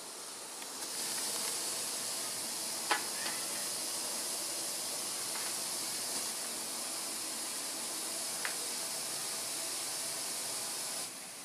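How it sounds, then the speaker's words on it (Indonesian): Water boils hard in a steamer over a high flame for steamed bolu cakes, giving off a loud, steady hiss of heavy steam, with a few faint clicks and no talking. "airnya kelihatan telah mendidih dengan uap yang banyak"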